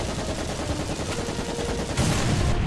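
Rapid tank machine gun fire in the War Thunder video game, a steady dense burst running through the whole stretch and growing louder and fuller near the end, with no talk over it.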